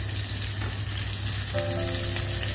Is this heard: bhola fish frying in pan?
yes